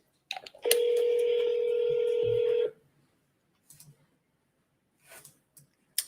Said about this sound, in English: See if they pick up the phone this time.